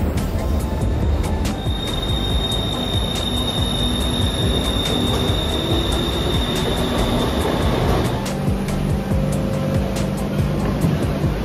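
A BTS Skytrain metro train in Bangkok rolls past, loud and close, with steady rumbling wheels, a long high squeal, and a series of sharp rhythmic clacks over the rail joints.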